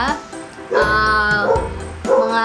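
A dog barks and yips a few times in quick bursts, close by, mixed with a person talking over it.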